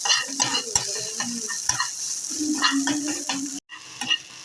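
Mixed vegetables frying in a pan with a soft sizzle, cut by repeated spatula scrapes and knocks against the metal and a brief drop to silence near the end.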